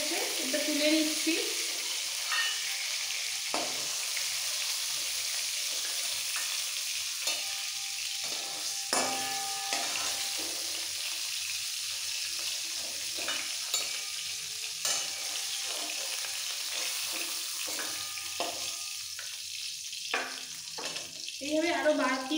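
Prawns fry in hot oil for a Bengali prawn cream malaikari, giving a steady, close sizzle with occasional stirring and utensil clicks throughout, and no one speaking.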